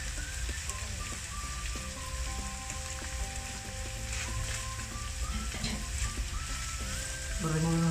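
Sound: sofrito of carrot and green pepper frying in a pan

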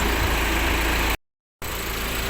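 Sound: car engine idling with licence plate rattling

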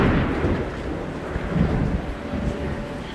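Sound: thunderstorm thunder

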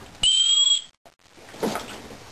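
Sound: whistle on hiking backpack sternum strap

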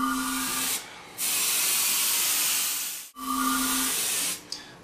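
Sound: airbrush spraying Createx paint on coffee table edge

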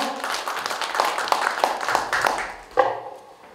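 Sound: audience applause welcoming a speaker

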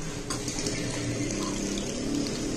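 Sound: RFID Arduino water dispenser pouring water

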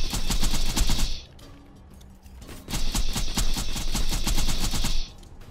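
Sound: gunfire in the video game Borderlands 2

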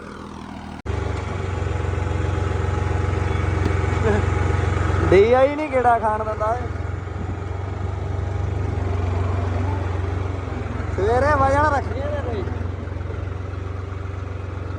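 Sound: Mahindra 265 tractor engine pulling a super seeder

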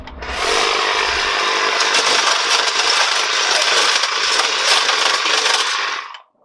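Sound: Milwaukee M18 Fuel cordless brush cutter cutting wooden dowels

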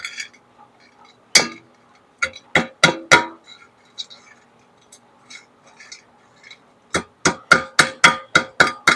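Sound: knocking slag off a lead button from gold smelting

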